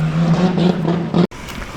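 A Ford Falcon with a new clutch doing laps, its engine revving hard and close with a strong buzzing drone that wavers through gear changes, then abruptly drops off before a quieter trailing rumble.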